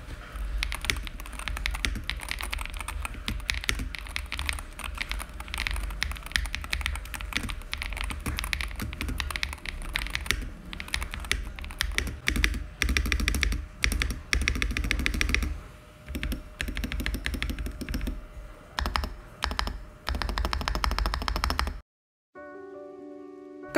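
Typing on a Pulsar PCMK 2 HE TKL magnetic keyboard with stock switches, a quick, steady stream of close keystroke clacks with short pauses, fairly soft, no talking.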